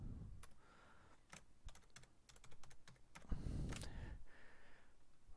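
Computer keyboard keys clacking as C++ code is typed, a quick irregular run of close, crisp keystrokes with short pauses between bursts and no voice.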